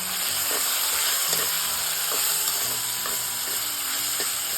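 Vegetables stir-fry in oil, a loud steady sizzle and hiss with regular spatula scrapes against the pan about twice a second, close and with no talk.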